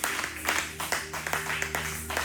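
A church congregation clapping in rhythm while acclaiming Jesus, regular claps about twice a second over a steady musical drone, with singing voices mixed in.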